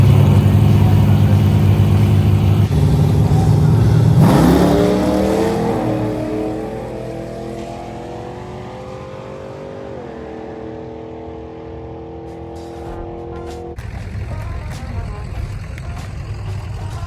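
A drag racing car launches down the track, its engine roaring loudly and close as it revs up and accelerates hard, then the note drops and fades as the car pulls away, ending with a lower steady hum.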